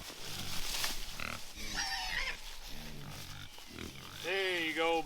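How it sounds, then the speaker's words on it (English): Homestead pigs on a 26-acre farm give low grunts and squeals, some rough and some high-pitched, close by among rustling. A person talks over part of it. "Come here, pig."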